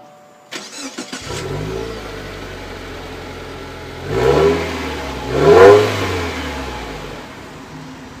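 A new Subaru turbocharged boxer engine starts with a short crank, settles into a steady idle, then revs up twice in quick bursts before dropping back, close and loud.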